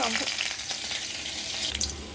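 Chopped garlic fries in hot oil, a continuous bright crackling sizzle heard up close, with a spoon stirring briefly under it.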